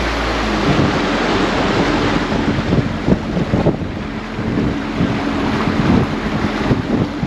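A fishing boat with a Parsun F130 outboard motor runs at low throttle, its engine rumble mixed with loud wind buffeting the microphone and rushing water around the hull.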